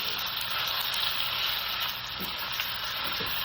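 Beef browns in a hot pan with a steady, even sizzle that holds at a moderate level throughout, broken by a few faint stirring scrapes.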